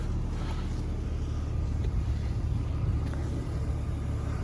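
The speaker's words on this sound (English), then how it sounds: "I love the sound of these 6 cylinders. I mean, they just purr, don't they?" A BMW 330Ci M Sport's 3.0-litre six-cylinder engine idles evenly throughout, a smooth continuous low purr heard close by with no talking.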